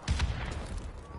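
Video game gunfire fired through a window: a quick, close cluster of rapid shots at the start, followed by a brief rumbling tail.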